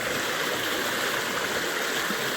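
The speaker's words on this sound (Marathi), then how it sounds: "हा धबधबा आता सुकलाय पूर्ण, पाणी कमी आहे" A waterfall at Marleshwar, nearly dried up with little water left, gives a steady, even rushing hiss of flowing water, continuous and fairly close with no talk.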